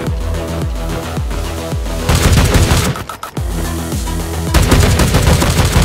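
Rapid bursts of gunfire from the shooter video game War Gun, loud and close, with repeated sharp shots, a brief lull near the middle, then renewed dense firing with no talk over it.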